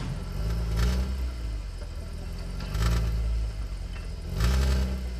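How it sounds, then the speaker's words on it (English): A BMW M differential with free play at the output flange gives three hollow clunks, about two seconds apart, as its large spider gear is turned by hand on a jacked-up car, over a steady low mechanical hum. "you can still hear the clunking noise coming from the diff when I start moving this large spider gear"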